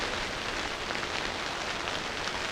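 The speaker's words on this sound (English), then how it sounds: "We're gonna hopefully wait until this rain passes a little bit." Heavy rain drumming on an ice camping tent, a dense steady patter close overhead with no break or variation, no voices.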